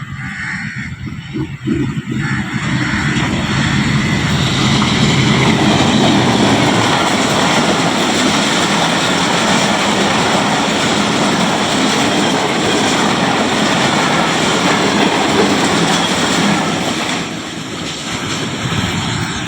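A passenger railcar led by GU20 locomotive 4564 speeds through Gujranwala Cantt railway station at about 100 km/h. It makes a loud, sustained roaring rush close by that holds for most of the pass, then eases slightly at the end.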